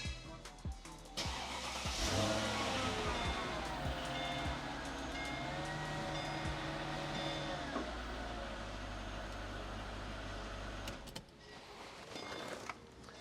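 A Mercedes SL with ABC suspension starts and idles while the suspension pump whines and hums as it pumps up, a steady mechanical drone close by that cuts off near the end, with no talk.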